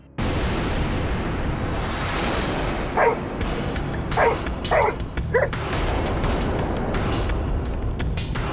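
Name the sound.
dog barking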